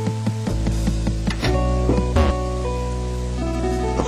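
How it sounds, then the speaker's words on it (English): Steady heavy rain in the Mother 3 video game, a dense wash of falling water running throughout under a backdrop of game music tones, with no speech. "Mighty heavy rain, isn't it?"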